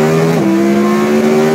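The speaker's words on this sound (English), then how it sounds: "So you want to know what the new Huracan exhaust by Kline sounds like?" A Lamborghini Huracan with a Kline Inconel exhaust revs hard, its engine note holding high, dipping as the revs shift, then climbing again, loud and close for a brief burst.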